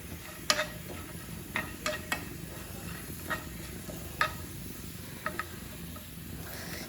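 Potato french fries frying in ghee, a soft continuous sizzle with scattered sharp pops and clicks from stirring, fairly quiet and heard alone.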